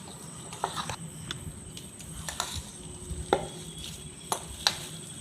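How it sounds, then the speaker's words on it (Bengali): A spoon stirs palm fruit batter in a bowl for Bengali taler bora fritters, giving soft sticky mixing under a low background hum, broken by a few sharp taps against the bowl's side. "এখন দিয়ে দেবো তালটা, সব তালটা দিয়ে দিলাম, ভালো করে মিশিয়ে নেব।"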